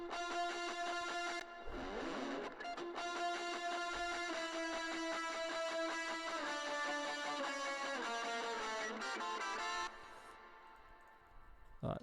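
Sustained melodic electric guitar lines drenched in heavy reverb, notes ringing and blending into one another, quiet and spacious with no voices.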